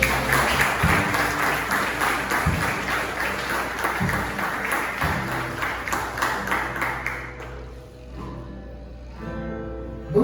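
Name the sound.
congregation applauding Jesus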